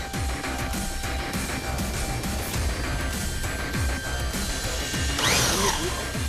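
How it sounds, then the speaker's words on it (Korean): A power drill bores into a heavy steel safe weighing over 700 kg, producing a continuous loud grinding whine with scraping metallic bursts and a harsher screech toward the end. "다음은 드릴로 직접 뚫기 시작한다."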